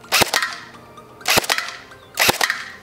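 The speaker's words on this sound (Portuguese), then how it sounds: "E a gente vai tentar furar ela com um tiro de airsoft." Three sharp airsoft gun shots crack out about a second apart, each a snappy pop with a short rattling tail, nearby and alone, fired at a bottle.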